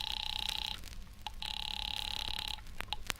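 An old telephone line rings in two long buzzing bursts separated by a short pause, then short clicks follow, clear and close in a radio drama setting, with no speech.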